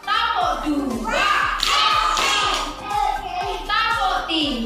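Children in a classroom playing a clapping game, rhythmic group hand claps in quick sets under loud chanting children's voices.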